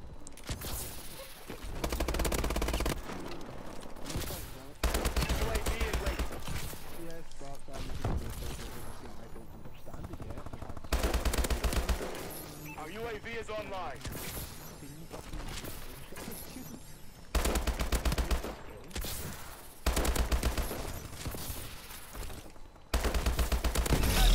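Automatic gunfire from a first-person shooter's Thermal Inferno weapon in a team deathmatch match, rapid bursts recurring through the clip with loud broadband blasts, mixed with game effects and a talking player.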